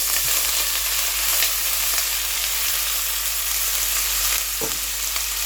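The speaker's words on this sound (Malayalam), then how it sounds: "എണ്ണ ഒന്ന് ചൂടായി വന്നിട്ടുണ്ട്. അതിനുള്ളിലേക്ക് ആദ്യമേ തന്നെ ഞാനിവിടെ എടുത്ത് വെച്ചിരിക്കുന്ന ഒരു ചെറിയ പീസ് ഇഞ്ചി ഫൈൻ ചോപ്പ് ഒന്നിറക്കി" A small amount of finely chopped ginger fries in hot oil with a steady, close hiss over a low background hum, broken by one brief clink near the end.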